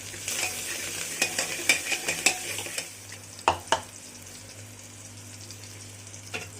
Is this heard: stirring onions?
yes